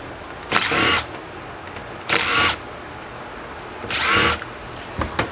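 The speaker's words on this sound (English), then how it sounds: "I'm going to grab a Phillips impact driver and start pulling some of these bolts." A Phillips impact driver removing bolts from a 70hp Johnson outboard motor, three short loud bursts of rapid hammering whir separated by quiet pauses, close and with no talking.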